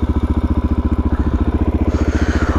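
Motorcycle ridden off-road, its engine thumping in a fast steady pulse, loud and close, with a rising note near the end and no talking.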